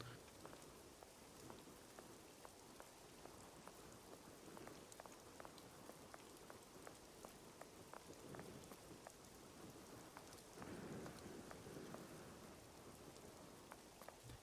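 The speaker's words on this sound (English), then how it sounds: "You could honestly take this audio and use it as like one of those relaxing rain sound ASMR things." Steady rain pours down in the Sherlock Holmes: The Awakened video game near a lighthouse, a constant dense hiss with scattered drop ticks and a brief swell of heavier downpour near the end, with no talking.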